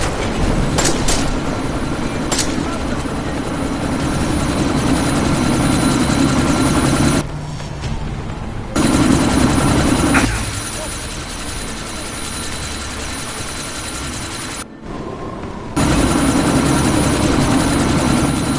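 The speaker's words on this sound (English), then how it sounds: "That chopper's about to take off!" Helicopter rotor drone from the Deus Ex video game as the chopper readies for takeoff, a loud steady thrum and whine running throughout, with two brief cuts where it drops out.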